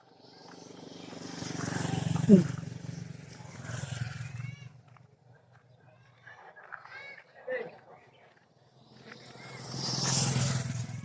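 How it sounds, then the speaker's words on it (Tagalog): A motorcycle swells past outdoors near a fish market by a park, passing twice as a roaring engine rise and fade. People talk nearby between the passes. "Huwag kang tatawid may motor."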